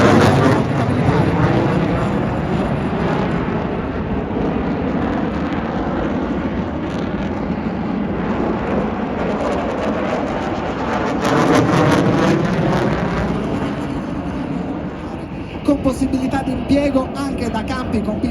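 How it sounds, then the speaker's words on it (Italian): A loud, continuous jet roar fills the air, rumbling and hissing as an F-35 fighter passes overhead during an Italian Air Force centenary airshow, with a crowd murmuring faintly beneath. "Una prima virata F-35 è l'aereo più avanzato attualmente in dotazione dell'aeronautica militare"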